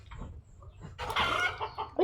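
A chicken clucks close by, a few soft calls growing into a louder, busier burst of clucking near the end.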